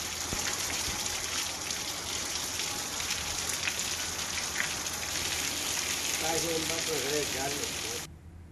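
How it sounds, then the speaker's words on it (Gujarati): Rain falling over village roads in Kutch, Gujarat, with rainwater running along them: an even, close wash of rain hiss and spatter, with faint indistinct voices toward the end before it cuts off. "વરસાદ વરસતા ગ્રામ્ય વિસ્તારના માર્ગો પર વરસાદી પાણી વહેવા લાગ્યા"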